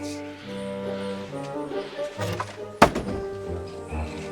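A single sharp impact of a warning shot striking close by in Kingdom Come: Deliverance 2, a brief thunk near the end of a quiet stretch with faint voices and a low game score.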